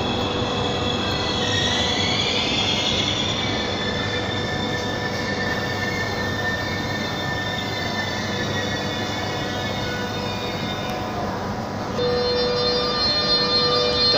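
An Italian train pulls into a station, a loud, continuous rumble with squealing wheels and rising metallic tones running the whole time, heard close by with no talking.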